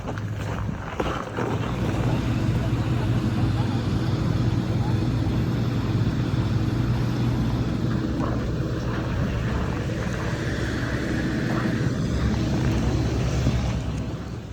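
A steady, loud drone of turboprop engines fills the cabin of an Air Canada Express Dash 8-300, heard from the front seat by the propeller, with continuous broadband rumble and wind-like hiss.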